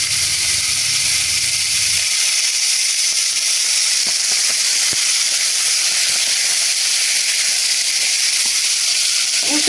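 Veal pieces for blanquette de veau browning in a pan, a loud, steady, close sizzle and hiss with a few faint clicks, after a brief moment of speech at the start.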